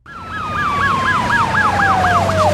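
Ambulance siren from a TV crime drama episode, wailing in a steady repeating up-down cycle about twice a second, loud and close over a low rumbling traffic bed, with a long steady tone sliding slowly downward beneath it.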